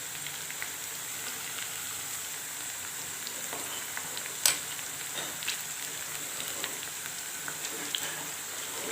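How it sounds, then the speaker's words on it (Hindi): Tomatoes fry and sizzle steadily in a pan for a potato and egg curry, a constant close hiss with scattered crackles and one sharper pop midway, no voices. "टमाटर ऐड करने के बाद इसे 2 से 3 मिनट के लिए अच्छी तरह भूनेंगे"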